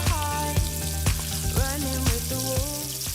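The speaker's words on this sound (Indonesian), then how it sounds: "Lalu, kita sarung dan siap kita goreng ke dalam minyak panas." Flour-coated squid frying in hot oil, giving a steady sizzle and crackle beneath louder melodic background music.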